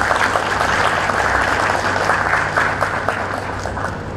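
A crowd claps steadily for several seconds at a school appreciation award dinner ceremony, a dense patter of many hands with no voices over it.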